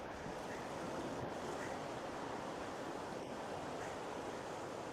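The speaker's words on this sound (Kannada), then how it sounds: "ಅಲೆಗಳು ಬಂದು ಯಾವ ರೀತಿ ಅಪ್ಪಳಿಸ್ತಾ ಅದನ್ನು ತೋರಿಸ್ತೀನಿ ನಿಮಗೆ" Sea waves crash against rocks at Madigudde beach, a constant broad roar of surf heard from close by, with some wind noise and no voices.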